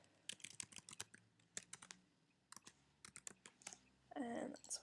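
Computer keyboard typing a username, quick bursts of close key clicks with short pauses between, followed by a louder clatter at the end.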